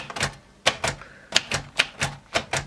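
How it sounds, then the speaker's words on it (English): Bursts of typewriter keystrokes strike in a quick, irregular rhythm with short pauses between clusters, close and clear with no talking. "I'm typing. On a typewriter that I bought."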